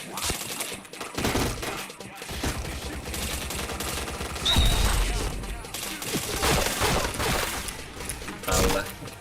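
Dense rapid gunfire in a shooter video game, bursts of automatic fire and heavy impacts packed across the whole stretch, loud and busy, with voices faintly underneath at times.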